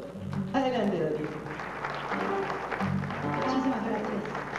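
Applause for a singer at a Latin music performance, clapping mixed with prominent voices and tonal sounds, the crowd noise fairly quiet and partly masked.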